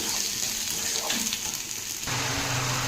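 Salt, chili, turmeric powder and cumin powder sizzle and crackle in a hot pan while being stirred for an egg omelette curry, making a steady close frying hiss with a shift as the stirring changes.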